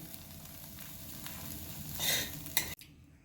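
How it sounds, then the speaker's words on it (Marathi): A moong dal halwa mixture is sautéed and stirred in a pan, a soft steady sizzle with scraping strokes that builds briefly near the end before a sharp clatter cuts it off, quiet and close, with no speech. "याला आणखी आपण पाच मिनिट परतून घेणार आहोत"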